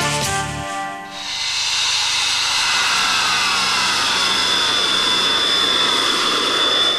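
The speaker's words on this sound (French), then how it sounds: "Un avion de chasse qui traverse une route nationale." A fighter jet crossing a national road in Switzerland: a loud, roaring hiss of jet engine that swells and holds steadily for several seconds, broad and close.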